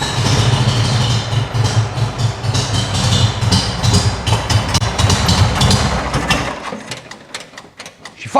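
A 1970 air-cooled VW 1915cc engine with dual 40 carburetors starts and runs steadily with a loud mechanical clatter and low rumble, then cuts off abruptly near the end, leaving a short quiet tail.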